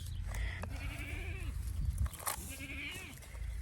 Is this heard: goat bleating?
yes